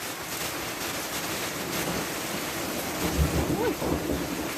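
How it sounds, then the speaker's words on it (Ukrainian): Heavy rain pours down on a Ukrainian village in a dense, continuous roar, with a voice briefly audible near the end. "Яка злива."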